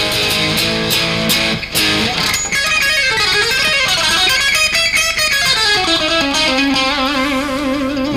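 A distorted electric rock guitar lick in a harmonic minor flavour with string skipping, a fast, dense run of bright notes that climbs and falls, loud and steady throughout with no voices.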